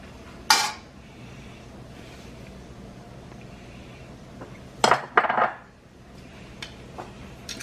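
A metal pot handled on a stove while vegetable oil is added for a Lao chicken stew, with sharp clanks of metal against metal, one early and a cluster later, over quiet room noise.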